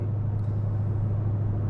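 Dodge Challenger Hellcat cruising, heard from inside the cabin, a low steady droning rumble with a constant engine hum and no voices.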